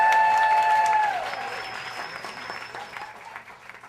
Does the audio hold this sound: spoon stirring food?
no